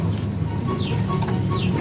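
Club pigeons in Aurora beat their wings in quick flurries of flapping, close by, over a dense background of cooing and other bird calls.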